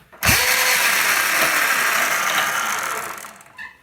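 A 2021 KTM SX-E5 electric dirt bike at full throttle gives a sudden thump, then a loud, steady high-pitched electric whine that holds for about three seconds before tapering off, close by with no talking.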